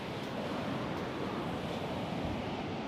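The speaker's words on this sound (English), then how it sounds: "everyone is in the water and the waves are looking pretty good tonight" Ocean waves breaking on a surf beach on a farming coastline, a steady, loud, broadband wash of surf with wind, continuous and close with no voices.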